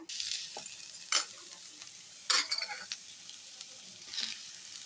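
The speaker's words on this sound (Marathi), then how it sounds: "आता शिजवून स्मॅश केलेले बटाट घालूया।" Boiled, mashed potatoes with turmeric, chilli powder and garam masala are stirred in a pan for aloo palak paratha filling. Three or four distinct scraping stirs stand out over a soft, quiet sizzle, with no voices.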